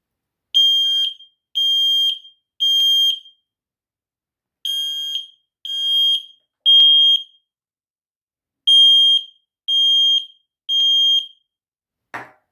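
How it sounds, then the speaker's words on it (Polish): A TechniSat Smoke Sensor 2 smoke alarm beeps loudly in sharp bursts of three, repeating with short pauses between groups, with no other sound around it. "czujnik wykrył nam dym, wykrył zagrożenie, uruchomił się alarm"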